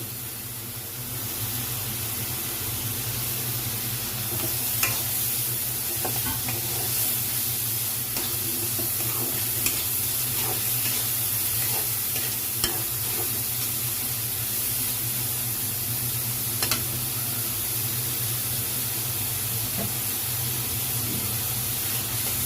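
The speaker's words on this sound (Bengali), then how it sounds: "চিংড়ি মাছটা দিয়ে দিব এখন।" Prawns cooking in mustard sauce give a continuous, even hiss of frying, with a low steady rumble beneath and occasional faint stirring ticks, close and unbroken for over twenty seconds.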